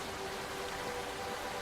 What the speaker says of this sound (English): Yeah, I think that's just the rain.